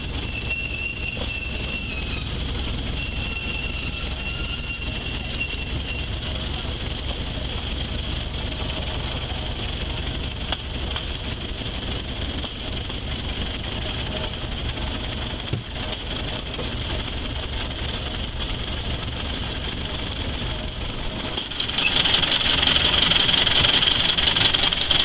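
A heavy train climbing a 4% grade rumbles and grinds steadily for a long stretch, with wheel squeal humming on top, then grows noticeably louder and brighter near the end as the engine labors harder.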